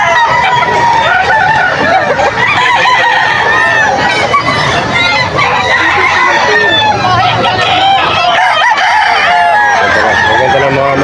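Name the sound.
many chickens and roosters crowing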